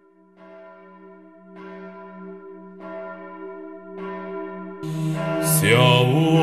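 An Orthodox church bell in Revetis tolls steadily, several slow strikes ringing out with long humming decay, joined at the end by a brighter, louder clang.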